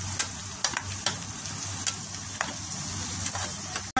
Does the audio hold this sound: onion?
yes